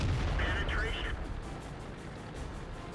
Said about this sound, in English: Oh, crap, artillery.